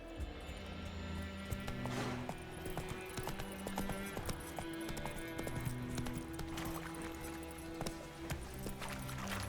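Roach the horse gallops in The Witcher 3: Wild Hunt on PS5, a steady, rhythmic clip-clop of hooves running continuously under game music, fairly faint and without speech.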